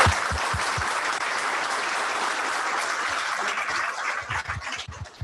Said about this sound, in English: Can we have a loud round of applause,